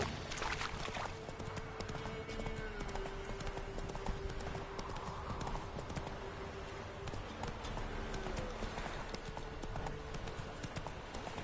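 Steady clip-clop of the horse Roach trotting in The Witcher 3, a continuous rhythmic hoofbeat in the foreground over faint game ambience and occasional bird calls.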